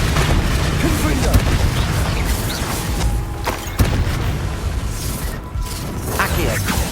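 A Confringo fire spell cast in the Hogwarts game Hogwarts Legacy, heard as dense, rumbling battle noise with booms and sharp bursts under a busy combat mix.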